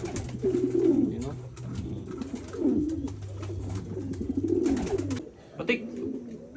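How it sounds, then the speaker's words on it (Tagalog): Racing pigeons coo steadily in their loft, low throaty repeated calls overlapping for several seconds before a brief pause and a last coo; a person may speak faintly nearby. "Andun sa kabilang kulungan si Pilay mga kalapatids kasi panay itlog na lang"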